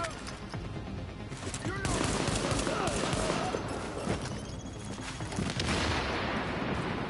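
AK-47 gunfire in the shooter game The Division, fairly steady bursts and scattered shots running through the whole stretch, close and loud, with game ambience underneath.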